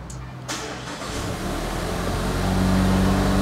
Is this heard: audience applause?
no